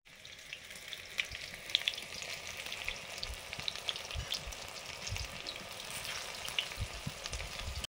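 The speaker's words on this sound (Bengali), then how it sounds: "পরের বারে দিয়েছি, ভাজা চলছে" Oil sizzles and crackles steadily as water lily fritters fry, with scattered sharp pops over a constant hiss and no talking.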